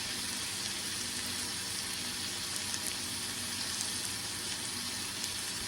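A steak sears in a pan on the stove with a steady, even sizzle and crackle that carries on without a break, fairly faint and close, with no voices over it.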